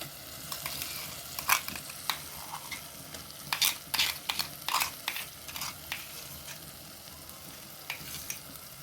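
Crushed chickpeas frying in a pan for a Kerala-style chickpea curry, a low continuous sizzle broken by irregular sharp scrapes and clinks of a spoon stirring, clustered in the middle and thinning toward the end.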